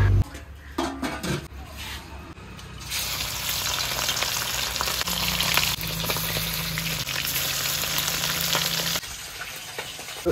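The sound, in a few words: fish frying in a pan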